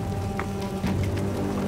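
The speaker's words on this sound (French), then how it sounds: "Et puis bon, la grêle commence à nous rattraper," Hail pelting down during a storm in Tornado Alley, a dense, continuous patter and drumming of stones striking surfaces nearby, steady and fairly loud throughout with no voices.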